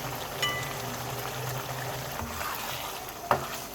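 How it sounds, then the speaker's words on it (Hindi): Dum ka qeema (minced meat with green chilies, mint and a little water) simmering in a pot: a soft, steady bubbling hiss throughout, with one sharper pop near the end and no talking. "ये अभी इसमें बबल बन रहे हैं,"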